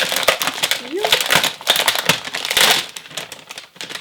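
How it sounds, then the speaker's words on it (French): Sheets of scrapbooking paper and Project Life cards crinkle and rustle close up in quick, dense bursts of crackling handling noise, with someone speaking French between the rustles. "Alors il y a des feuilles en fait avec des cartes de Project Life un peu, et des feuilles alors ça va faire du bruit."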